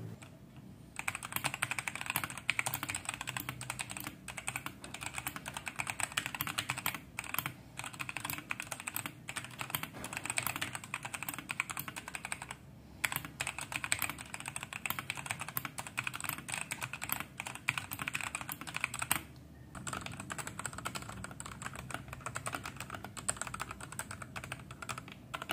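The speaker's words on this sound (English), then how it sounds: "here is a simple typing test of both of these keyboards" Typing on Machenike K500 and K500W 90% mechanical keyboards with red switches: a continuous run of close, even keystroke clatter broken by a few brief pauses, with no speech.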